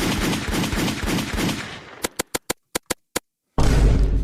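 Soundboard button firing a gunshot effect, seven sharp isolated bangs in quick uneven succession after a stretch of noisy rumble, loud and close, ending in silence before the noise returns.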